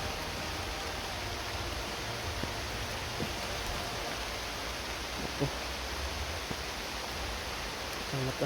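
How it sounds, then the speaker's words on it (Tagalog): Heavy rain pours steadily and loudly, a dense, unbroken wash of noise with a few faint knocks and brief sounds scattered through it. "Ang lakas pa ng ulan mga idol"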